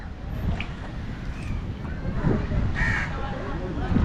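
Crows caw repeatedly beside a fish pond in Sri Lanka, with sharp calls rising over steady wind and outdoor rumble while people talk nearby.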